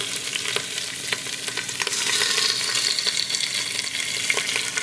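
Beef short ribs sear in a hot Instant Pot, a steady dense sizzle and crackle of frying meat with occasional sharper pops, close and fairly loud, with no talking.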